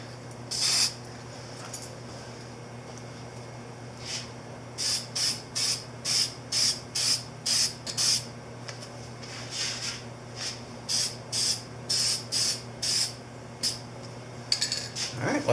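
Short hissing bursts from a spray paint can coating a Yamaha Virago 250 XV250 motorcycle's front wheel and forks, repeated in quick regular passes over a low steady background hum, fairly close.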